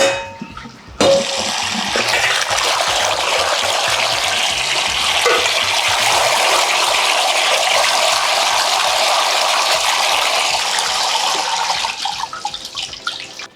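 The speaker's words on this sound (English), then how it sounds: "rinse these really well in a sieve, like really well under running water" Chickpeas rinsed in a sieve under a running tap, a steady loud rush of water starting after a brief clang and lasting throughout, with faint clatter of the beans.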